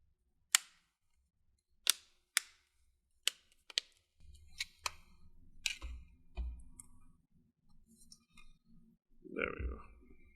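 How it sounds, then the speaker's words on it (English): The bottom cover of a Toshiba Satellite C50D laptop clicks into place as its sides are pressed down during a service. A handful of sharp, separate plastic snaps sound close up, followed by softer handling noise and a brief voice at the end. "start pressing down the sides. You're gonna hear some clicking sound."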